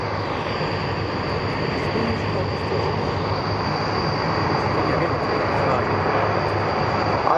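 Military helicopters landing during a Bundeswehr display at the ILA Berlin air show, heard as a loud, steady roar of rotors and turbines that fills the whole stretch without a break.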